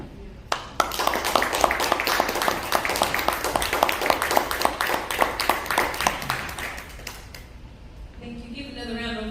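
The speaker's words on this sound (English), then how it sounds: "Give another round of applause for NEWNIE." Sustained applause from an audience, dense clapping for several seconds that fades out, followed by a voice starting to speak.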